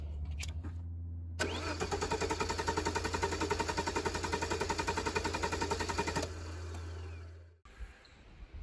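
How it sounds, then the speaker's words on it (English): Opel Calibra V6 engine, just fitted with a new crankshaft sensor, cranks in a fast steady chatter for several seconds, then cuts off and a low hum continues briefly; loud and close, no voices. "I'll just give it a little crank."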